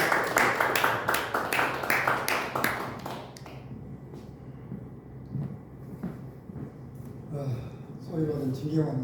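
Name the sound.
audience applause welcoming the lecturer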